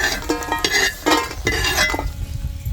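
Dry coconut and chillies roast in a pan while being stirred, giving repeated loud scraping and clinking strokes of a utensil against the metal in an uneven rhythm over a faint background.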